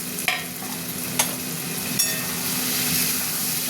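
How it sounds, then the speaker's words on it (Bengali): Potato and pointed gourd hiss steadily in oil in a wok, with three distinct scrapes of a stirring spoon over the constant sizzle and no talking. "এবার এর মধ্যে আমি আলু আর পটলটা দিয়ে কষবো।"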